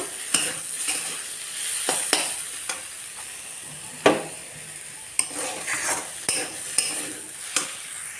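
Boiled malancha greens fry and get stirred in a pan, with soft sizzling under repeated utensil scrapes and taps against the metal, several sharp clanks standing out, close by with no talk.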